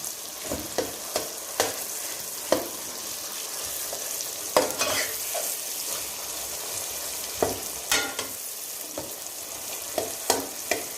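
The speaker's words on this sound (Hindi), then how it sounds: "तो हम इसको भी 2-4 मिनट इसके अंदर अच्छी तरह से भून लेंगे" Masala being stir-fried in a pan, with a spoon scraping in repeated sharp strokes over a steady sizzling hiss, close and fairly loud with no voices.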